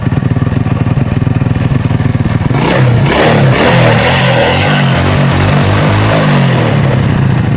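A loud motorcycle engine idles with a rough, rapid putter, then revs up sharply and holds at a higher, strained roar, during a battery charging check.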